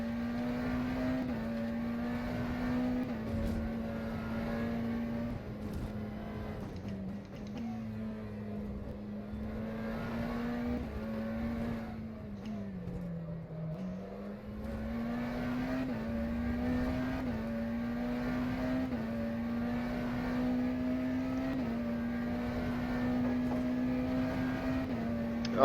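A McLaren Senna GTR hypercar laps Sebring in the rFactor 2 racing game, its engine holding a sustained, steady drone that dips and rises through corners, loud and alone with no talk.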